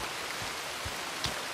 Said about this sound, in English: maybe they're mad because it's raining